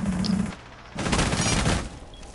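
Heavy gunfire in the video game Rainbow Six, with dense bursts of shots, a brief lull, then another sustained burst of rapid fire, loud and close.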